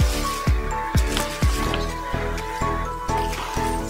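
Bubble wrap salvaged from a bin being squeezed and handled up close, giving a run of sharp pops and crinkling at a roughly regular pace with no talk.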